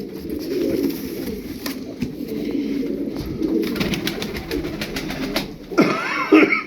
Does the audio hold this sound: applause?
no